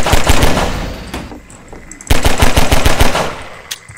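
Rapid automatic gunfire in Half-Life 2, loud and close, two bursts of evenly spaced shots with a short lull between them, no talking.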